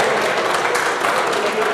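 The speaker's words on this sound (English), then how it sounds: "I'm not finished and you're clapping" A short stretch of steady crowd clapping from traditional rulers gathered in Rivers State for the governor's address, even and continuous with faint speech beneath.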